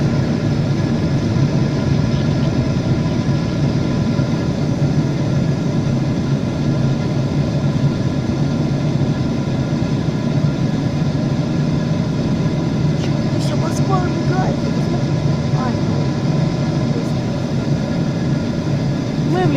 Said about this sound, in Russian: Ну что ж, вот так вот происходит взлет.